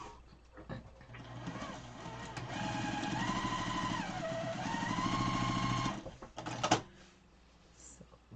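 Sewing machine stitching pieces of a Farmer's Wife quilt block, a steady whirring run of stitches lasting several seconds that stops and then starts up again in short bursts.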